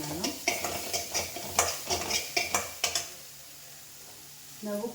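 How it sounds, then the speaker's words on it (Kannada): Curry leaves and green chillies sautéed in a pan, with a spoon scraping and stirring in quick rhythmic strokes over a soft sizzle, close by, before the stirring stops near the end. "ಈಗ ಅದಕ್ಕೆ ಈಗಲೇ ಸ್ವಲ್ಪ ಕರಿಬೇವು ಹಾಕ್ಕೊಂಡು ಅದನ್ನು ಕೂಡ ಸ್ವಲ್ಪ ಬಾಡಿಸ್ಕೊಳ್ತೀನಿ ನಾನು"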